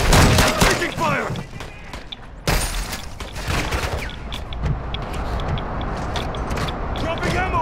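Rapid bursts of gunfire crackle through a team-based shooter video game, loud and dense at first and then continuing as scattered shots, with players talking over the battle.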